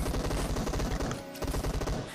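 Rapid automatic gunfire in a PUBG Mobile fight, loud close bursts of shots in quick rhythmic succession, briefly pausing and then resuming, with no talk.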